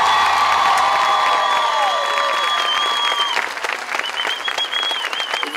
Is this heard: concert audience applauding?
yes